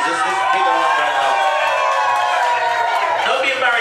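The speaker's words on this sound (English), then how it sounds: "So can we give her a round of applause, please?" A party crowd at a club cheers and claps over pulsing music, with shouts and whoops mixed into the noisy hubbub.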